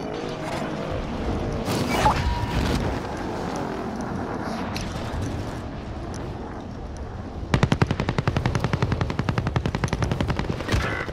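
Gunfire from the video game Call of Duty Modern Warfare, with scattered shots and a dense background of combat noise, then a loud, rapid automatic burst with a steady rhythm of closely spaced shots near the end.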